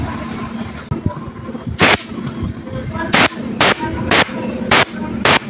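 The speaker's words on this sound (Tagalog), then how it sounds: "air gun" Short, loud bursts of compressed air from an air gun fed by an oil-free air compressor, six sharp blasts at irregular intervals over a steady background hum.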